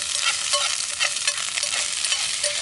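Food frying and sizzling on a Bushbox LF wood-burning hobo stove outdoors, a steady close hiss with crackling pops and occasional scraping stirs, no voices.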